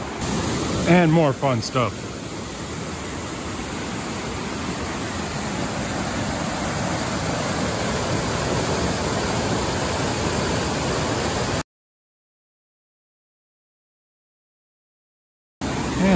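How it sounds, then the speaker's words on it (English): River rapids along the Appalachian Trail produce a steady, loud broadband rush of water, briefly joined by a voice near the start, before the recording cuts to silence for a few seconds and then the rushing returns. "There's some more nice rapids."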